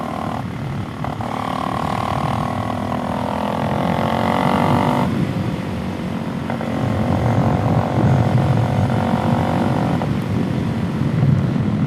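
A Suzuki DRZ400SM single-cylinder engine fitted with an FCR 39 carburetor revs up and holds high, settles, then revs again, loud and close with a buzzing rasp under the rising pitch.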